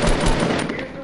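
Rapid automatic gunfire in Fortnite, a dense close burst of shots rattling for about a second, loud and continuous.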